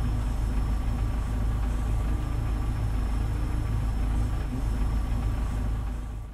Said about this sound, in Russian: Звук мотора.